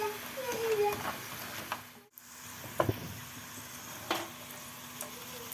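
Potatoes fry in hot oil in a pan with a steady, bright sizzle and occasional clinks and stirs. Faint talk in the background.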